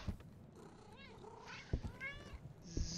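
A cat meows in the horror video game Demonologist, a couple of rising and falling meows with soft purring-like rumble beneath, fairly quiet and close with light thumps.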